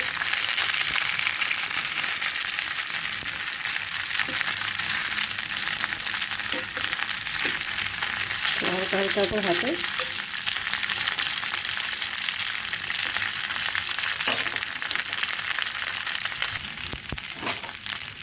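Puli pitha dumplings frying in mustard oil in a wok, a steady close sizzle that runs throughout, with brief utensil scrapes and a short stretch of someone speaking over it.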